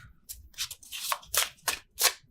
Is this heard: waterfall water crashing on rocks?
no